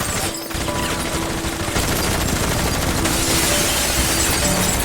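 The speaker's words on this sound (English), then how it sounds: "George was also drawn to the gunfire outside" Sustained gunfire rattles through a robbery scene in a crime movie, loud, dense automatic bursts and crackling shots running almost without pause, with breaking and shattering mixed into the barrage.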